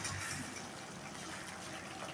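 Water-dissolved moong dal poured slowly into a boiling pot makes a soft, continuous liquid gush and splash, faint and steady throughout with no speech.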